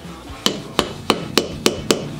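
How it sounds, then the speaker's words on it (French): Six light, evenly spaced hammer taps sound close and crisp while brake pads are fitted on an Oldsmobile Delta, each a sharp metallic knock against a quiet background. "Un petit coup de marteau, pop,"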